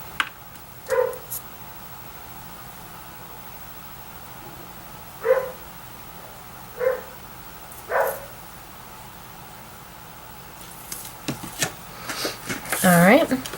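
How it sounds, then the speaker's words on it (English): A dog barks several times at a distance, spaced-out single barks over quiet room tone, followed by a burst of higher yips and whines. "you're probably going to hear my dog Roxy."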